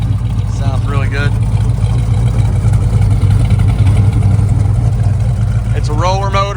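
A rebuilt 1970 Chevelle SS 454 V8 with a roller cam, 10-to-1 pistons and an Edelbrock carburetor idles with a loud, lumpy rumble throughout, while someone talks over it at the start and end.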